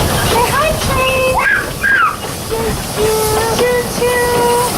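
Cripple Creek steam train hissing steadily with a loud, continuous rush of steam, with squealing, whistling tones of metal over it, while people talk nearby.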